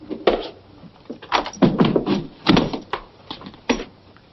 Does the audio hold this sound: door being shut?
yes